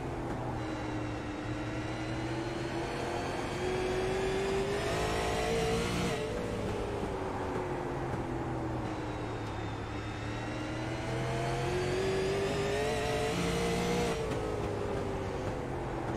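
Onboard engine of a Super Late Model race car lapping South Boston, loud and close, the tone climbing under throttle down the straights and dropping into the corners in two clear cycles, with no talk.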